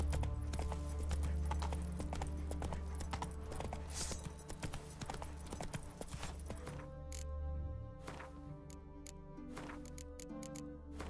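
Horse hooves clip-clop in a steady galloping rhythm in Witcher 3, loud and close at first, then lighter and more spaced out, with no talking.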